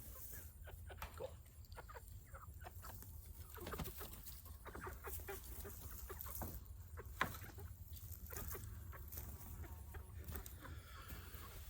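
Heritage meat chickens in a backyard coop cluck and call softly over low background noise, with scattered short clucks and one brief sharp sound partway through.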